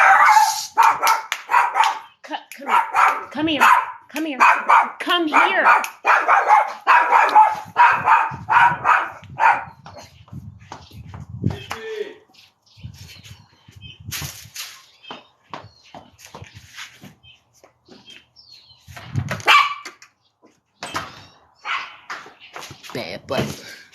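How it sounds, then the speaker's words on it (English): A pet dog barks at someone walking past outside, with repeated close, sharp barks and yips through the first half, then scattered quieter barks and whimpers while a woman calls to her. "She was barking at somebody walking by."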